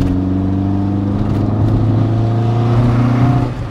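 A Mk2 Vauxhall Cavalier engine runs close by, a steady, throaty mechanical hum with a gentle rise in revs near the end, heard alone without talk.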